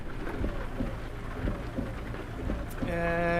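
Heavy rain pours down in American Truck Simulator while trucking in Texas, a steady, dense hiss. A brief higher tonal sound rises near the end over the downpour.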